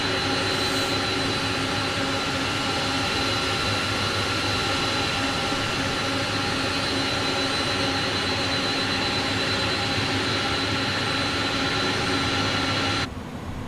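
Airbus A300-600F jet engines in Microsoft Flight Simulator 2020 hold a steady, loud whine with a broad rumble, running unbroken for the whole stretch before cutting off abruptly at the end.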